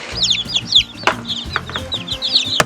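Newly hatched baby chicks chirping busily close by, a rapid run of high peeps mixed with soft low clucks and a few sharp pecking taps, with no talking.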